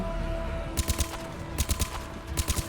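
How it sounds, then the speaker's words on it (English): Vindicator burst-fire rifle in Mass Effect 3 combat, firing sharp three-round bursts spaced about a second apart, punchy and close over quiet game ambience. "The Vindicator is a burst fire weapon, so you need to aim with 3 bullets well"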